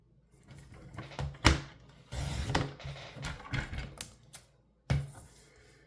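Paper trimmer slicing designer series paper into 3.5 inch strips, a series of sharp clicks, slides and cutting scrapes in irregular bursts with brief pauses, close and fairly loud, no voices.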